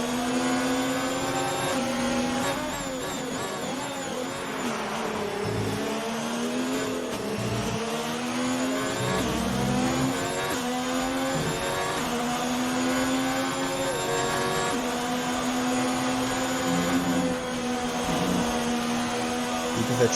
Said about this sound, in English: Puts the car up into overtake in that DRS of WietFlex in the Ferrari